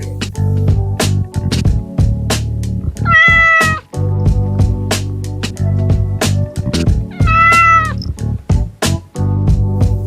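A cat meows twice in clear, rising-then-falling calls over a steady musical backing with rhythmic percussion, the meows standing out loudly and close.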